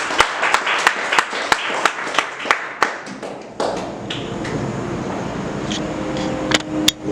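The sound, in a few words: congregation applause in church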